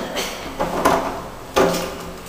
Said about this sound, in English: Trying to open the door.